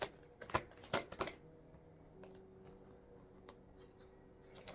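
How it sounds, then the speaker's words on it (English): Tarot cards shuffled by hand, with a few crisp riffling bursts near the start that give way to a quieter, softer shuffle with faint background hum. "That's why I'm still shuffling."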